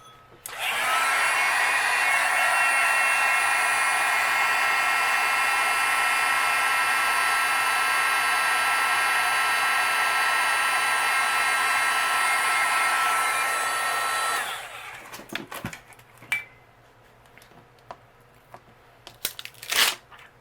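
Heat tool melting embossing powder on a handmade card gives a loud, steady blowing whoosh for about fourteen seconds, then switches off, leaving faint handling clicks and rustles.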